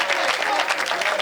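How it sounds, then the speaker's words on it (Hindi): Dense applause from a kavi sammelan poetry recital audience, a steady wash of many hands clapping together without a break through the short burst. "बजाओ ताली"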